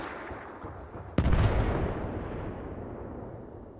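A single loud gunshot from a gun in the video game Arma Reforger cracks out abruptly, its booming report rolling and decaying slowly over a steady background rumble.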